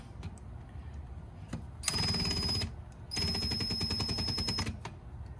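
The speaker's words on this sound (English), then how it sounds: "So I'm going to go ahead and drill." A hammer drill rattles loudly into concrete in two bursts, about a second and a second and a half long, separated by a short pause.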